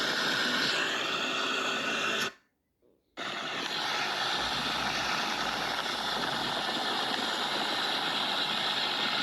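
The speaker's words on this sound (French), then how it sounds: "ma balade en scooter" Scooter engine running during a ride, a loud, steady close drone with wind rush that cuts out briefly near the start before resuming unbroken.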